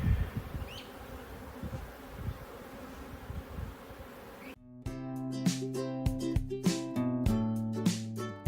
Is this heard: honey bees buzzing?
yes